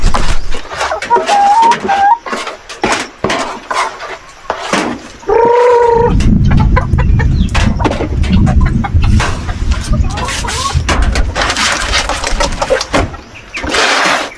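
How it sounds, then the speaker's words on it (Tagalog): Native chickens cluck in bursts over an engine-like rumble and scattered noises on a small farm, with a brief louder call midway. "Takpan natin dahil marami itong ating native na manok."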